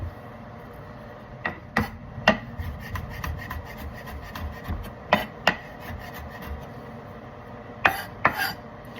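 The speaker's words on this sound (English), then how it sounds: "Easy way to open garlic, just smash it. Put your knife on top, crush it." Garlic cloves smashed flat under a knife blade for hot sauce: a handful of sharp, close thumps scattered over a soft background rasp, with no talking.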